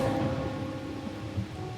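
Rainfall in the video game Wuthering Waves, a soft continuous hiss of steady rain with a low rumbling undertone, even and unbroken throughout.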